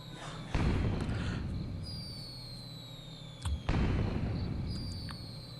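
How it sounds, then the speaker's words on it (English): Bursting fireworks in Goemon's Great Adventure, a video game: two loud broadband blasts with crackling tails, the second about three seconds after the first, with faint whistling tones gliding above. "Like happy festival fireworks"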